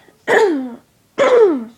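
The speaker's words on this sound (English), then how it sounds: "I have to clear my throat" Two loud, rasping throat clearings close to the mic, separated by a short pause, with no talking.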